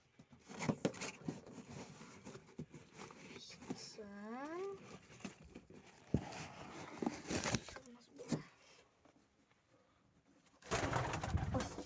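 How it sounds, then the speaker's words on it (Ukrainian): A young homing pigeon's cooing rises in a short series of upward-sweeping calls, fairly close, amid handling noises and rustling. "Це теж молодий поштовий голуб піскун."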